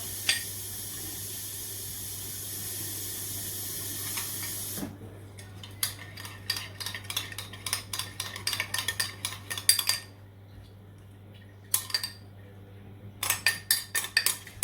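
A spoon clinks and scrapes against a pan while stirring a sauce being thinned with water, starting after a steady running-water hiss and coming in irregular, close metallic bursts.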